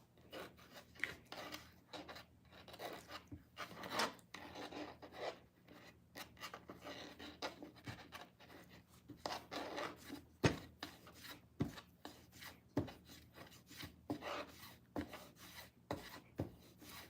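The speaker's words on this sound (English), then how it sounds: "Another thing I do with my putty is I roll it out on the table." Exercise putty being rolled out on a table gives soft, repeated rubbing and rasping strokes in an irregular rhythm, close and quiet, with no talk.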